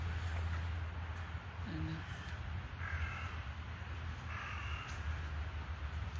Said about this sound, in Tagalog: Oh, there are many crow. They coming, asking food.